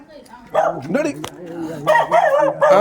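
A dog gives several short, tonal barks and yips in quick bursts, close and loud, mixed in with nearby voices talking.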